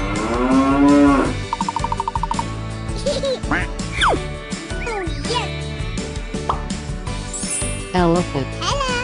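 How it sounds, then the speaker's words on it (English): Cow moos within a busy, musical children's animal-sound track, loud and layered with other tones and a voice naming farm animals nearby. "Cow. Cow."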